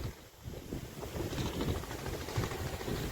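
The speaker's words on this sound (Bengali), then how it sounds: "পুরো 60 থেকে 70 কিলোমিটার বেগে ঝোড়ো হাওয়া হচ্ছে।" Strong, gusty wind of 60 to 70 km/h in the Sundarbans roars steadily against the microphone, a loud, rough rush that swells and surges in waves without letting up.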